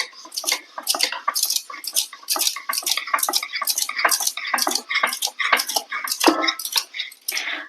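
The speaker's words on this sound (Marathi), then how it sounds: "ही चपाती आहे, ही चपाती लाटून घेणार आहे" A rolling pin knocks and clicks rhythmically on a board as a chapati for Bihari bhagosa is rolled out, giving a quick, steady series of close, sharp taps.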